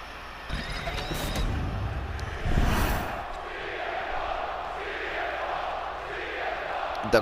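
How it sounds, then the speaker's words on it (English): An arena crowd chants for CM Punk during a match in the wrestling game WWE 2K25, a dense steady roar that swells near the middle and stays loud throughout. "The crowd chanting CM Punk."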